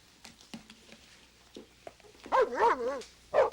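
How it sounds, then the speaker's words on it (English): Several dogs bark and yip in another room of a house, muffled at first with a few scattered yelps, then a louder burst of rapid, wavering barks toward the end. "Every time anyone goes in that room, they bark like that."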